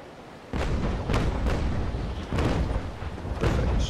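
Naval ship cannons firing in the game Naval Action, a string of heavy booming broadside blasts rolling one after another, loud and close with a dense low rumble between shots.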